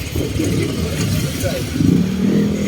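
A motorcycle passes along a street beside a town market during Holy Week in San Ildefonso, Bulacan, its mid-pitched engine rising and swelling near the end amid steady street noise and people talking.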